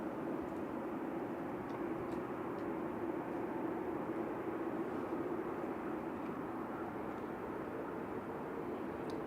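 Qatar Airways airliner taxiing out at Manchester Airport, heard from a distance as a steady, even jet engine roar with a broad rumble that holds unchanged throughout, with no talk.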